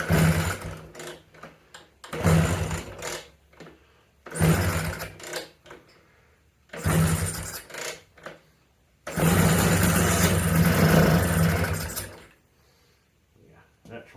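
A 1997 Vespa P200E scooter engine, run with no choke or air filter and flooded with too much fuel, sputters in repeated uneven bursts that catch and die, then runs loud for about three seconds before cutting out.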